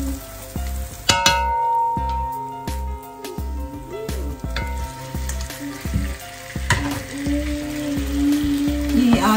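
Minced meat (keema) frying in a pan of cooked masala, a steady loud sizzle with repeated scraping and stirring knocks running throughout, with no voices.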